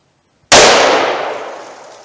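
A single loud .357 Magnum revolver shot from a 2-inch barrel firing 125 grain Gold Dot ammunition at a range, a sharp close crack followed by a ringing decay lasting about a second and a half.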